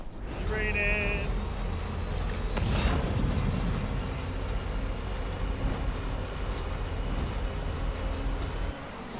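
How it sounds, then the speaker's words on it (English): Steady, heavy rain falls in the video game Death Stranding, a dense continuous wash of patter with low rumbling underneath and a few brief tonal game sounds early on. "It's raining."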